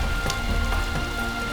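Autumn rain falls steadily on surfaces, a dense, close patter of drops with a few sharper splashes and no voices.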